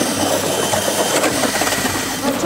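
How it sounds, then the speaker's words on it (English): Gas-powered ice auger running in reverse on a frozen lake, its small engine droning steadily and loudly up close while it throws ice and snow out of a freshly drilled hole, with no voices. "I'm gonna put the auger in reverse and I'm gonna shoot out all the ice and snow under the"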